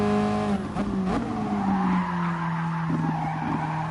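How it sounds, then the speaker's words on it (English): Tyres squealing in Gran Turismo Sport, a sustained tonal screech that bends downward over a few seconds with engine and road noise underneath, close and prominent, no speech. "Okay, I can hear the tyre squealing"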